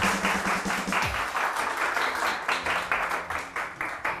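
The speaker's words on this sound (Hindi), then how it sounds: "बहुत सारी तालियां एक मर्तबा फिर।" A talk-show studio audience applauds, with dense, loud, sustained clapping that settles into a rhythmic beat toward the end.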